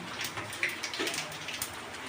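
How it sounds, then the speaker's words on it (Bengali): Heavy rain pours steadily and densely throughout, an even close hiss of drops with no voices. "প্রচন্ড বৃষ্টি হচ্ছে"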